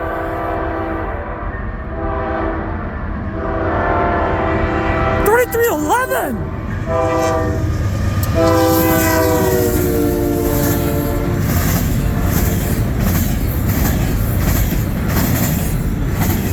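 A loud train horn sounds in long blasts, with a brief whistle-like sweep, over the steady rumble and clatter of a northbound CN freight train rolling close by at Ladysmith.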